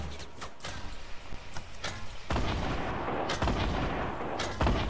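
Rapid gunfire in the battle royale game Fortnite during a squad fight, dense bursts of shots with sharp cracks throughout, heaviest in the second half, mostly without talk.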